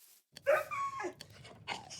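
A dog in the Minecraft video game gives a few short barks and whimpering yips, clear and close over a quiet background.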